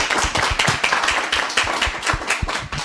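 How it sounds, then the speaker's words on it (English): An audience gives a short round of applause at a live event, with a small group clapping in a brisk, uneven rhythm close by. "Give him a round of applause"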